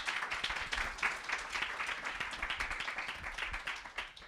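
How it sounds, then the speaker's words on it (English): A meetup audience applauds a speaker after a talk on digital accessibility, a steady dense patter of many hands clapping close by, sustained for several seconds without voices. "Let's give Tim a round of applause."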